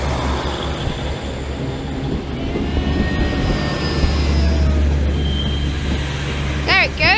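A class 142 Pacer diesel train pulls out of Manchester Piccadilly station with a steady, loud low rumble that swells midway. Faint squealing tones drift over it, with a brief warbling burst near the end.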